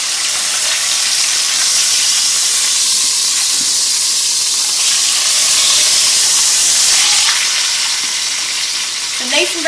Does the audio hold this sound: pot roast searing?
yes